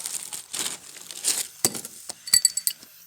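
A small Bantam chisel works the wing of a stone swan sculpture, giving scattered sharp clinks and gritty scrapes in irregular bursts, close and moderately loud.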